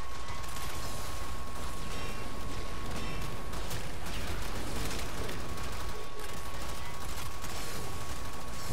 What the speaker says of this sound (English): the more you shoot, just the more and more damage it does